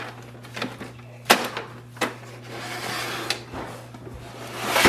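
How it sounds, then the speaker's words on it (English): Paper tray pulled out of an Epson WorkForce WF-2860 printer: a few sharp plastic clicks and knocks, then a sliding scrape as the tray comes free, close and moderately loud. "Now we are going to take the paper tray."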